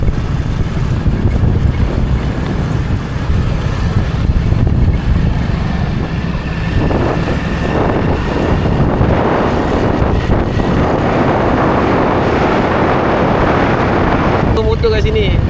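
Boat motor running steadily near a beach in Cambodia, a continuous low engine drone mixed with heavy wind buffeting the microphone throughout.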